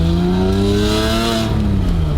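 A Porsche 997 Carrera S with an aftermarket exhaust revs loud and close, its raspy, tinny, hollow note climbing smoothly in pitch, holding, then easing off, with no voices.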